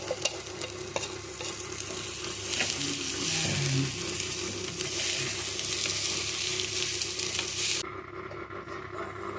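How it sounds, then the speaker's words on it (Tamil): Two cups of ridge gourd peel sautéing in a pan, a steady close sizzle with stirring strokes throughout, the hiss cutting off sharply near the end. "அதை போட்டுட்டு அது கொஞ்சம் நேரம் வதங்கட்டும்"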